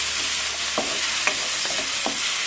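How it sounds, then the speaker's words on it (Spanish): Beef for lomo saltado frying in a pan and being stirred, a constant close sizzle broken by a few soft scraping and clinking strokes. "Luego de que se cocine un ratito, movemos la carne"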